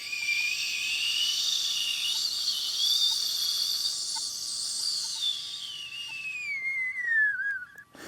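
A whistling stopper from a kettle, found while metal detecting in Australia, is blown into a long, wavering high whistle that bends up and slowly falls away over several seconds, close and fairly clear over quiet outdoor ambience.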